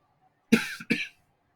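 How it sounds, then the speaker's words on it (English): Two sharp, close coughs in quick succession from a person with a head cold, each a short harsh burst, surrounded by quiet. "I have a little bit of a head cold cough sort of thing going on"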